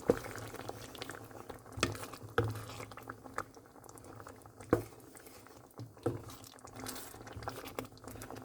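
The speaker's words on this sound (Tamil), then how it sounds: "இதனை இப்படியே கொதிக்க விட்டு" Soft bubbling of a pot of potato curry with coconut milk on the boil, with irregular pops and plops, close and fairly quiet, no voices.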